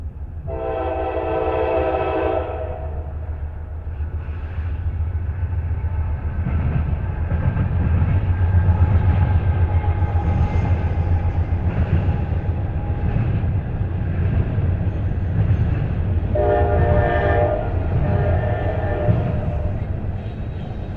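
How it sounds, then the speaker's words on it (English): A loud Norfolk Southern eastbound intermodal freight train rumbles past close by on the Chicago Line at Berea, its horn sounding at the start and again near the end over the steady roar of rolling cars. "Another eastbound intermodal train is next in line on the Chicago line"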